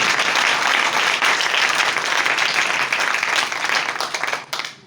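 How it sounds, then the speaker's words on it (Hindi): A church congregation bursts into dense, loud applause in praise of Jesus during a sermon, a steady wash of many hands clapping for a few seconds before trailing off. "जोरदार तालियां दें यीशु मसीह नासरी के लिए।"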